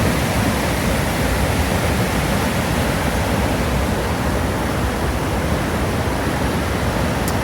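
An alpine mountain torrent swollen by monsoon-like rain roars loudly and continuously, a dense broadband rush of water churning and tumbling rocks, with no voices.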